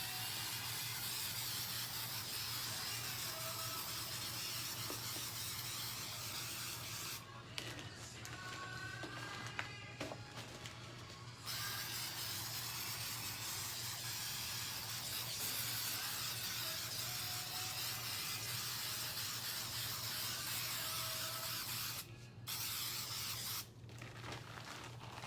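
Stencil Ease adhesive sprays from an aerosol can onto a stencil in a long continuous hiss, loud and close, broken by a few brief pauses between passes.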